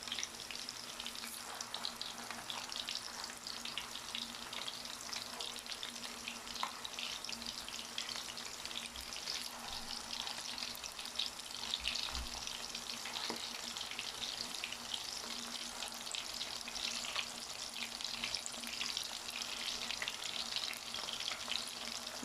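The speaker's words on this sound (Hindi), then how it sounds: "कोफ्तों को हमने ऐसे ही फ्राई होने देना, इनके ऊपर हमने चम्मच नहीं मारना।" Mutton koftas fry undisturbed in a pan, a soft, even sizzle with light crackles continuing throughout.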